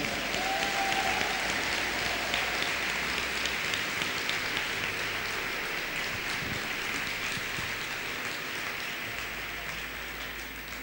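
A congregation applauds during a church service, sustained dense clapping filling the room and slowly tapering, with no speech over it.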